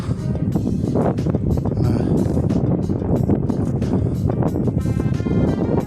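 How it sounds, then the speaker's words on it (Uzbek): Strong gusty wind buffeting the microphone in rough, uneven bursts, with faint voices underneath, outdoors at a village construction site in spring. "Mana hozir havo aynib shamol bo'lib o'tadi"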